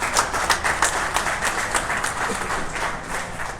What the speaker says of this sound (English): a round of applause I think for John Ryder for that performance tonight